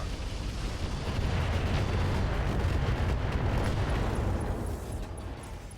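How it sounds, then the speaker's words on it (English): Mech weapons in the RogueTech video game unloading on a target, a heavy sustained roar of blasts and rumbling explosions rolling together, loud and dense before fading slightly. "Firing on target."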